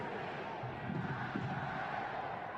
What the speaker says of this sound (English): Crowd in full throat now.